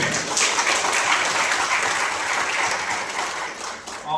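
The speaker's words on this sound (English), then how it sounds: "big round of applause for all the participants" A large ceremony audience at a closing event gives a round of applause for the participants, dense, steady clapping filling the room for several seconds before fading slightly.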